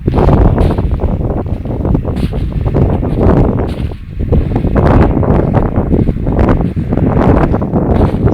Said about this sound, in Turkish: Rüzgarın sesinde zaten kameraya geçen rüzgarın sesi